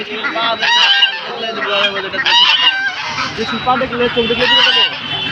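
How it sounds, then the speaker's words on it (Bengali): Geese honking loudly and repeatedly at a busy poultry market, with chickens and other fowl calling alongside and a voice talking in the mix. "এই যে দেখো এই জায়গায় রাজহাঁস"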